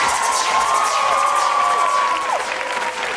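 An audience at a live show cheers and applauds for dancers, with loud sustained clapping, whoops and shouting from a large crowd while music tones play underneath.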